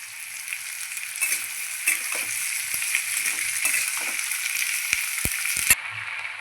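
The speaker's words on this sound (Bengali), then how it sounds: "পেঁয়াজ আর কুদ্দি ভালো করে ভাজতে হবে, এটাকে লাল লাল করে ভাজতে হবে।" Thinly sliced onion and kurdi frying in a pan with a steady close hiss of oil, punctuated by soft stirring scrapes and a few sharp knocks toward the end.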